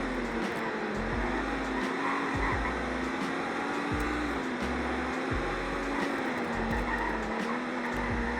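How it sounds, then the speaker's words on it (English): Toyota Supra or BMW Z4 engine in a Roblox racing game, a steady loud synthetic drone that holds a fairly constant pitch with slight wavering, continuous across the clip. "Wow, the acceleration is incredible on this car."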